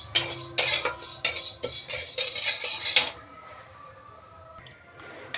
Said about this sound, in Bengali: এই যে ডালটা ভেজে নিচ্ছি শুকনো খোলায়।